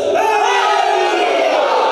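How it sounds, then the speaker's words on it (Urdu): A large crowd at a religious majlis gathering shouts a slogan in unison, a loud sustained roar of many voices close by. "یہ نعرہ مجلس کا حسن ہے اور ضروری ہے"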